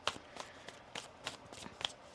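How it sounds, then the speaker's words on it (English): Tarot cards being shuffled by hand, a few quick riffling bursts in an uneven rhythm, close and fairly quiet. "One more shuffle."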